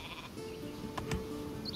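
A sheep in the Northgard strategy video game gives a single faint bleat over a quiet, steady in-game background.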